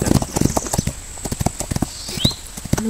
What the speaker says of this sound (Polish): Można sobie jeździć w teren, ile się tak naprawdę chce. I jakim się chce koniem.